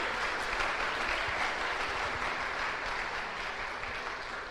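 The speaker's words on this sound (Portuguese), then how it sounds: "Pode aplaudir a Jesus bem forte aí." A church congregation applauds steadily for several seconds, a dense, even wash of clapping that fades slightly toward the end.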